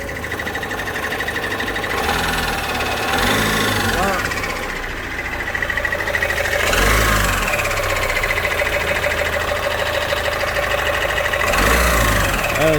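An Opel Astra K engine with a worn timing chain runs and revs unevenly with a mechanical rattling knock throughout, loud and close, with a voice speaking briefly over it.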